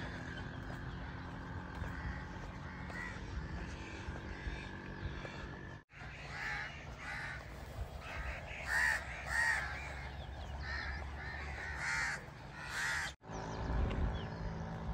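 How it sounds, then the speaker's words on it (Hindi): Crows perched on overhead wires in a village at morning caw repeatedly in bursts, moderately near, over a quiet outdoor background with soft rustling. "हाँ देखो जी कां भी बैठे हुए तारा ते।"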